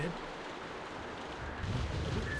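Steady rain falls in The Walking Dead video game, a soft continuous hiss that swells slightly near the end, with a faint voice underneath.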